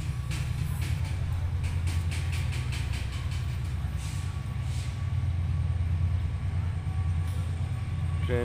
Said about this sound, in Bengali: ট্রেনটি মনে হচ্ছে মালবাহী ট্রেন।